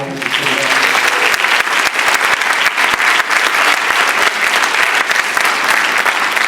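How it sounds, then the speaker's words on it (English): Loud, dense audience applause at a high school chamber orchestra concert, a full room clapping steadily and close by for the whole stretch, with faint voices briefly underneath at the start. "So a round of applause for that."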